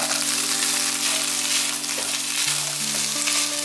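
Red bell pepper and dried tofu sizzle and crackle loudly in a hot wok during stir-frying, a dense continuous fry with a few tonal scrapes and shifts as the food is tossed.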